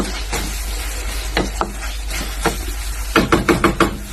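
Food being stirred and mixed in a pan over a faint sizzle, with scattered scrapes and knocks of the utensil against the pan and a quick run of taps near the end.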